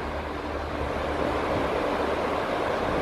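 Strong wind roars steadily across a beach, a continuous loud rushing buffet against the microphone with a surf-like wash underneath, no voices.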